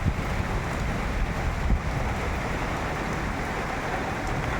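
Steady wind roars outdoors under heavy cloud, a dense rushing noise buffeting the microphone with a few stronger gusts.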